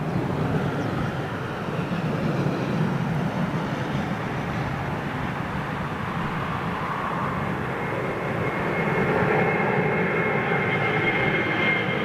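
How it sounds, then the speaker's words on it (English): A big jet airliner roars overhead on a low departure, a loud, steady, broad engine rumble that swells slightly toward the end, with no talk over it. "nice low departure"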